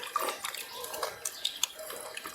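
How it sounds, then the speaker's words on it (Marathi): Water splashes and drips in short, irregular bursts as dried Bombay duck fish is rinsed by hand in warm water, close and fairly quiet. "आपण आता याला गरम पाण्यामध्ये साफ करूयात"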